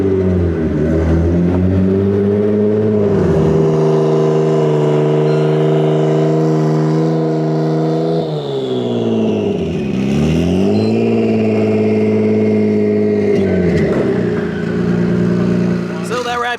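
The most powerful DeLorean's engine revs on a dyno, a loud, sustained roar that rises and falls through several sweeps of pitch over about sixteen seconds.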